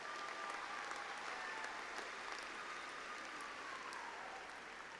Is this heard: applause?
yes